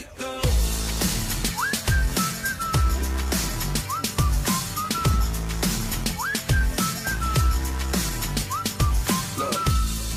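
Whistled melodic hook, short rising and sliding phrases that repeat over a punchy pop beat with heavy bass and drums, loud and continuous.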